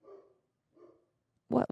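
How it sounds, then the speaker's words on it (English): A dog barks twice fairly loudly and close by, with short separated woofs, followed by a sharper, louder burst at the end. "These damn dogs."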